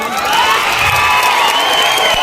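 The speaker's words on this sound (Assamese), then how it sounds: "উষ্ম হাত চাপৰি বনাওক।" Audience applause and cheering from a crowd at a concert held at an Assam police battalion camp, a dense, steady clatter of clapping lasting the whole moment, loud and close with no talk over it.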